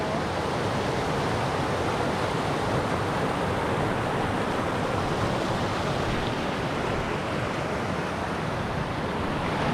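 Zigzag River rushing past a log crossing on a mountain backpacking trail, a steady, loud broadband wash of flowing water filling the whole stretch with no voices.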